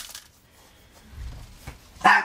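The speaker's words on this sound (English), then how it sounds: "there goes the dogs" Dogs bark indoors, one sharp, loud bark near the end after faint, muffled yips and rustling earlier, with the room otherwise quiet.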